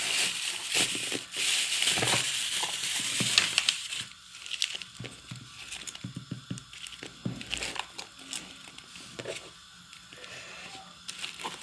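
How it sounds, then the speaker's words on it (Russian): A small plastic bag of pigment and glitter is torn open and handled. Loud crinkling and tearing come first, then quieter intermittent rustles and crackles close by, with no talk. "Я пакетик разорву, так как одной рукой держу."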